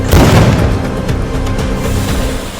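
Diwali firecrackers bursting in a former conflict area, a loud close boom at the start followed by a rumbling echoing tail and scattered crackling pops fading over a couple of seconds.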